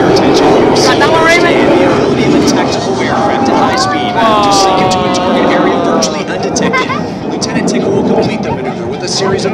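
Blue Angels jets performing at an air show at El Centro NAF, a loud sustained engine roar with shifting whine, heard under a public-address announcer and nearby crowd chatter.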